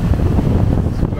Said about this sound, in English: It's blowing quite hard now.